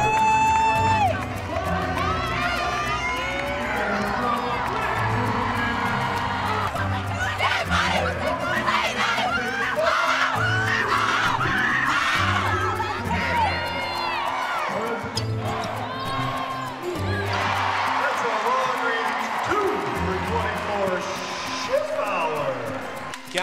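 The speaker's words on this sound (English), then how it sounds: "Tracy Nogle headed towards the bench, and she will get a big round of applause here." A Michigan State women's basketball crowd on senior night cheers and applauds as a player heads to the bench. The roar is loud and sustained, with whoops throughout and a commentator talking over it.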